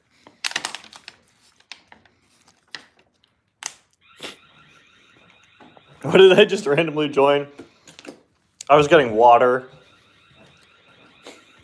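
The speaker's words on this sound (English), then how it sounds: "there's an alarm in here for some reason" An alarm sounds inside a grandparents' house as a steady high-pitched pulsing tone that runs under the scene, with clicks and taps at first and then two bursts of someone talking over it.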